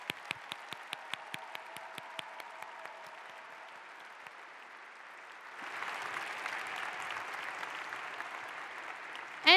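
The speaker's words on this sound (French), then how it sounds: "S'il vous plaît, une main d'applaudissement pour la 142e promotion." Graduating engineering class applauded at a French graduation ceremony: regular sharp claps at first, then a broad, louder wave of crowd applause swelling midway and continuing to the end.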